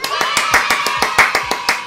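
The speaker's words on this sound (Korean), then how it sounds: "와 박수!" A few hands clap in a steady, close, fairly loud rhythm, roughly a dozen sharp claps in quick succession during a lively entertainment news segment celebrating a singer's album announcement.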